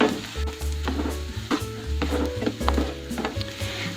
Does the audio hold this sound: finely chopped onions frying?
yes